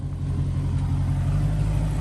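Dodge Hellcat V8 engine idling and rumbling nearby with a deep, steady, loud low drone and no distinct rev peaks.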